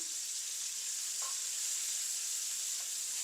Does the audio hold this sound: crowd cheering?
no